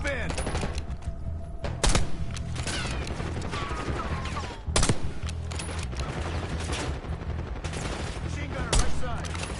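Sustained automatic gunfire in Call of Duty: Black Ops 6, rapid bursts running continuously with a few heavier thuds standing out, and voices faintly underneath.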